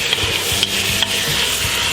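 Onion, garlic and ginger stirred in a pan for chicken adobo with coconut milk, an even sizzle with soft scraping strokes of the spoon repeating every half second or so, close and loud.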